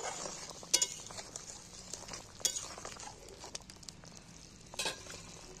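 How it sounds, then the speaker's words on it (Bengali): Quiet bubbling and sizzling from curry gravy simmering in a pan, with a few sharp clinks of a utensil against metal. "দেখো ঝাল আমার ফুটছে, ঝোলটা"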